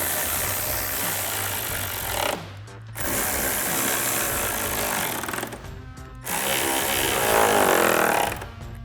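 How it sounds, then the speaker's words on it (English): A power tool with a 10mm socket runs loud and close, driving bolts on a RAM 1500 grille in three sustained buzzing bursts, each broken by brief pauses. "And then we'll grab our 10mm socket to tighten these down."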